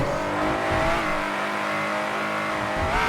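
An Aston Martin in a driving game revs and accelerates with a continuous loud engine whine that rises in pitch through the gears, sustained without any voices.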